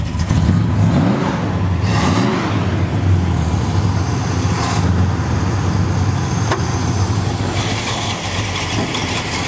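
A restored 1964 Dodge with a 440 engine, K&N air filter, Hedman headers and Edelbrock high-rise manifold revs loudly and close, its deep rumble rising and falling steadily over a continuous idle.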